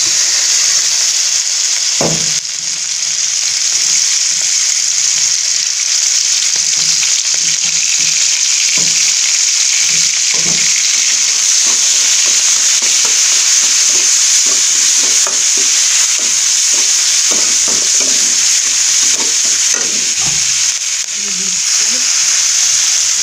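Chilli and onion fry in hot oil in a pan still unwashed after cooking fish, with a loud, unbroken sizzle and scattered knocks and scrapes of stirring over more than twenty seconds.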